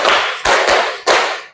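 Four sharp hand claps in an uneven counting rhythm, close and loud, demonstrated in a primary school classroom lesson.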